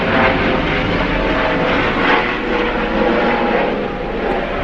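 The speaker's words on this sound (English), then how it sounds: "helicopters everywhere." Helicopters flying overhead near the Indianapolis racetrack, heard as a steady, loud engine and rotor roar that fills the whole stretch without breaks, with no talking.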